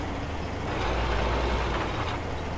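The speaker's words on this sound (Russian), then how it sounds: "Вот он приехал трактор." Tractor engine in Farming Simulator 15 arriving, a steady low rumble with broadband noise that holds level for a couple of seconds, loud and continuous with no talk.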